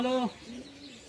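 A single short coo, loud and close, comes from Madrasi pigeons in a village loft, followed by a fainter, quieter tone.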